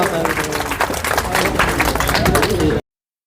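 Applause from an audience at a political rally, a dense wash of clapping mixed with crowd noise and voices, steady and loud for under three seconds before cutting off.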